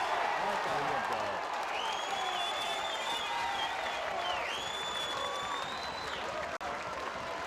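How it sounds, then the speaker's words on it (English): A crowd at an amateur Australian rules football grand final roars and applauds after a goal, a sustained wash of cheering with commentary over it and whistle-like tones cutting through. "A good roar from the Trinity crowd there"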